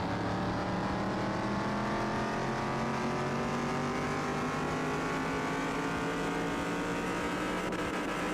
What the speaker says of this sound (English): I would love for these cars to have different engine sounds.